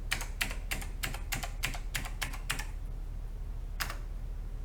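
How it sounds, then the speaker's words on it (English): Eight quick, crisp clacks on an OmniKey/101 mechanical keyboard being tested after cleaning, a short pause, then one more keystroke over a low steady hum. "The trouble with testing a keyboard in a web app is that the keys do things."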